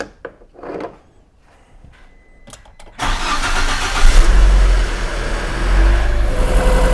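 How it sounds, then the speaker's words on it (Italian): A few light clicks and knocks, then a car engine cranks and starts at once, settling into a loud, steady running rumble nearby, during a battery health test with a tester. "accendiamo il motore intanto che lei sta andando"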